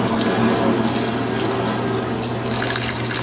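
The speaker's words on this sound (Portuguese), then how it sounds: "Aí ela joga a água, né, em cima das roupas, para molhar as roupas." An Electrolux Perfect Wash 16kg washing machine fills with water, a steady loud rushing gush pouring over the laundry without pause.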